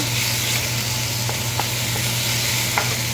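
Soybean chunks and boiled potato sautéing in a pan, giving a continuous close sizzle with a few light clicks of a spatula stirring through the mix.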